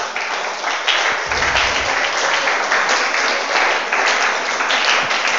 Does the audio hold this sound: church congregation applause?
yes